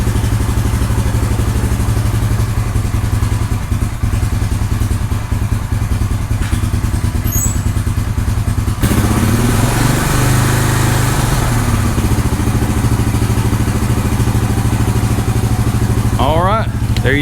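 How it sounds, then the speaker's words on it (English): A Honda 350 Rancher ATV engine runs on a stand, a loud steady close idle with a rapid chugging pulse throughout; someone talks over it and there is a brief clatter near the end. "Last night I let it run out here 15 minutes just on the stand."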